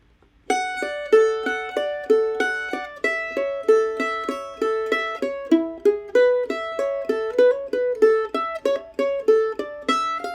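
Mandolin picking arpeggios of the fiddle tune Huckleberry Hornpipe in a rolling three-note grouping, each note bright and crisp, a steady unbroken run played solo and close.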